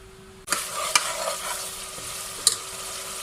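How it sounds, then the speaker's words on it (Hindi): Masala of tomatoes and spices frying in oil in a pot while being stirred: a bright, continuous sizzle starts abruptly, broken by a few clinking stir strokes, close and steady with no talking. "मसाले को आपने अच्छी तरह भून लेना जब तक कि हमारा मसाला और ऑयल लैदा नहीं हो जाता।"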